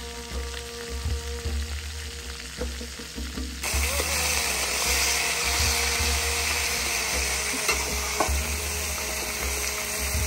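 Masala-coated food sizzles on a grill, a dense steady crackle that grows louder and brighter partway through, with faint clinks and a low background hum.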